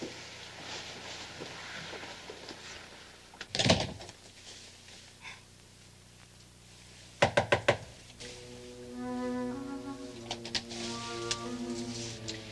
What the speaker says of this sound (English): don't come out until I knock